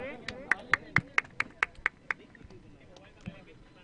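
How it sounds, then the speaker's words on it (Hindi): Hand clapping in welcome at a cricket ground during a local tournament match in Surat, about ten crisp, evenly spaced claps fading out, heard fairly close over low background noise. "एक बार तालियां बजाकर उनका स्वागत करें।"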